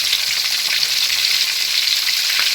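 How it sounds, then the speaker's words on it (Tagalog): Two tilapia sizzle and crackle steadily in hot oil, a dense, continuous spatter close up with no voices. "tapusin ko lang yung pagprito nitong dalawang tilapia"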